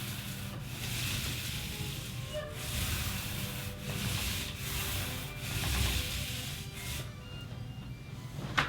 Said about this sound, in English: when you load the roller, you just want to make sure that you're giving yourself enough space to roll out all that paint.